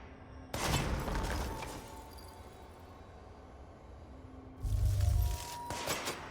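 Gunfire from the video game Control, fired to shoot something down: two dense bursts of rapid shots, one early and one near the end, separated by a quieter stretch of low background rumble.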